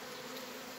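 Bees humming in a beekeeping apiary, a steady, soft, continuous buzz with no break, faint and close, with no voices over it.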